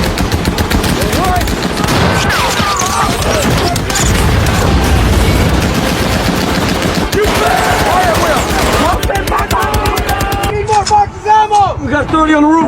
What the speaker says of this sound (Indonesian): dan senapan mesin yang dipegang oleh Norman, mereka semua pun mulai membabi buta menembaki semua orang.